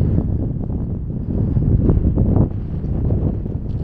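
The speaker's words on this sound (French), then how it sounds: "aujourd'hui, on n'a pas de chance, c'est que on a beaucoup de vent" Strong wind in the Moroccan desert buffets the microphone in a loud, continuous low roar with gusty surges, and no one speaks.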